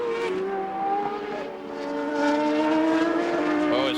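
Race cars scream around the track during 2001 CART qualifying at Portland, high engine whines rising and falling as cars pass at a distance, with commentary running over them.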